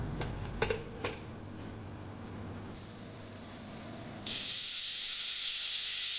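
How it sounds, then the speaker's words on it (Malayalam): A pressure cooker with mutton inside vents steam, first with a few short hissy spurts, then a steady loud, high whistling hiss that carries on to the end. "അതിലേക്ക് 1/2 ഗ്ലാസ് വെള്ളം ചേർത്ത് കുക്കർ അടച്ചു വെച്ച് 3 വിസിൽ വരുന്നോടം വരെ വേവിച്ചെടുക്കുക."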